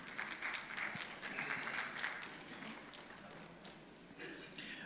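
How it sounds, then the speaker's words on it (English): Audience applause at a money summit panel welcoming a Ghana Stock Exchange representative, a steady wash of clapping at moderate distance through the whole stretch, swelling briefly near the end. "Please a round of applause for him."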